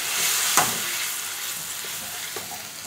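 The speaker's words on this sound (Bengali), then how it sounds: "মশলাটা একটু নেড়ে চেড়ে নিয়েছি, এবার টমেটো বাটাটা দিয়ে দিচ্ছি" Spices fry in a pan with tomato paste as a spoon stirs them: a constant close sizzle, with a sharp scrape near the start and another small clink later.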